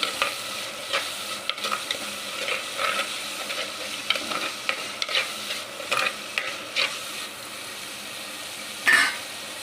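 Tomato and green chillies stirred into a sizzling prawn curry base in a pan, steady frying crackle with repeated scraping spoon strokes at close range and no talking.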